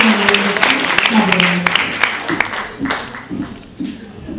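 An audience at a children's theatre show by a district Shilpakala Academy children's drama troupe in Joypurhat breaks into loud clapping, dense at first and then thinning, with voices mixed in.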